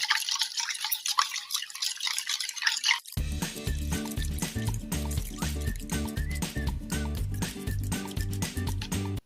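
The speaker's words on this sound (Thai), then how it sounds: "เสร็จแล้วให้เราใส่น้ำครับ น้ำเปล่าครับ แล้วทำการคนครับ คนจนกว่ามันจะเป็นฟองนะครับ" Water mixed with detergent and sugar is stirred toward a foam, giving a few seconds of dripping, sloshing liquid before a rhythmic music track takes over.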